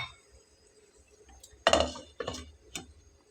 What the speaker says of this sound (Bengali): এটাকে আমি এখন ঢাকনা দিয়ে ঢেকে দেব